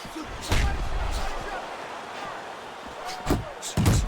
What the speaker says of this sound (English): That's a forceful two-punch combo by Roy Jones.